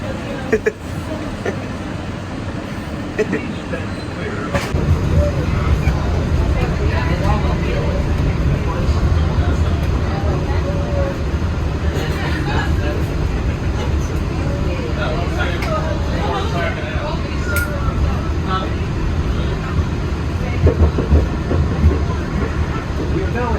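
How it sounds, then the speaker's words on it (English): Walt Disney World's Magic Kingdom monorail underway, a steady low rumble and hum of the train that swells after a few seconds and holds without a break, with faint bumps and rattles over the top. "we're on the monorail right now"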